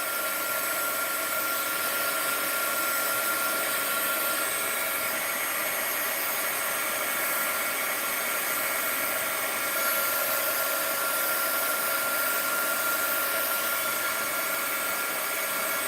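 A hair dryer drying art journal pages blows with a steady, loud, unbroken whir that runs at an even level throughout, with nothing else audible.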